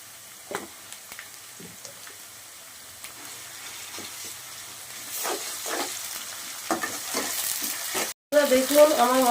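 Chopped onion with ginger-garlic paste sizzles steadily in a pan for a chicken curry, with intermittent scraping stir strokes and a louder burst of frying near the end.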